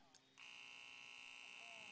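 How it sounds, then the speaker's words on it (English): A long, steady electronic buzzer sounds inside a high school basketball gym for a Sheldon at North Medford game. It starts abruptly after a faint moment and holds loud and unbroken. "There's the buzzer, though, telling us that it's time to play."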